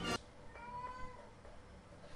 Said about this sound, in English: There's a cat meowing in the background.